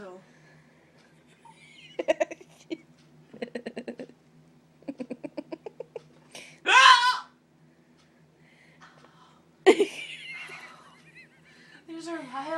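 Violent hiccups from a person, sharp sudden gasping bursts heard up close, alone in a quiet room with faint vocal sounds between them.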